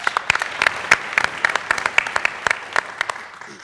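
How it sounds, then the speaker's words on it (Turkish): Applause on a Turkish family game show stage, the clapping sparse and loose at first with distinct individual claps, steady and fairly close throughout. "Bir alkış."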